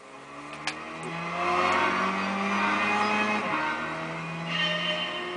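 Race car engine in Gran Turismo 6, a steady loud droning whine that builds, dips briefly as if through a gear change, then carries on revving with no talk over it.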